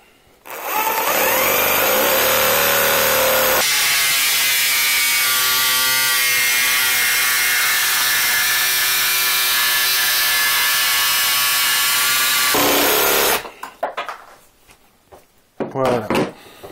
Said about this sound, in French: je vais découper une planche de sapin brut de 27 mm